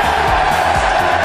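A large cricket crowd roars in steady, loud cheering as England win the Ashes, a continuous wash of voices and whoops with no pauses.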